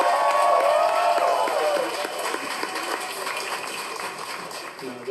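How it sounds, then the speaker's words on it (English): An audience claps and cheers at a celebration, loudest at the start with a bright whoop, then the applause settles into a softer steady patter mixed with crowd murmur. "How about another nice round of applause?"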